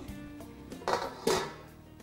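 A metal lid is lifted off a pan of black pepper chicken, giving two short clanks against the rim over a low sizzle.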